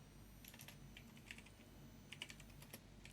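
Faint, close computer keyboard typing while coding in Roblox Studio, with light key taps in short irregular clusters over a low background hum, no talking.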